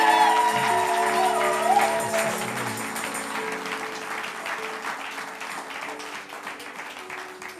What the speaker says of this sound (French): Alors acclamons pour le Seigneur Jésus-Christ.